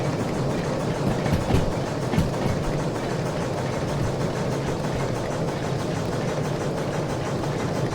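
A steam locomotive in Derail Valley labors uphill with a heavy train, its cylinders chuffing in a dense, steady roar with rapid rhythmic beats and clanking, loud and continuous for the whole stretch with no talk.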